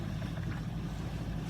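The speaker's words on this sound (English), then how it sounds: "I've got the engine running right now." A sailboat's engine runs steadily while motoring into the wind on a solo ocean passage, a constant low hum close by with wind and water noise layered over it and no break.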